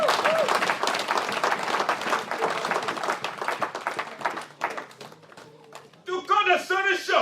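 A church congregation breaks into loud, dense clapping and applause that swells and then thins out, while a preacher's voice carries over the crowd and keeps talking as it fades.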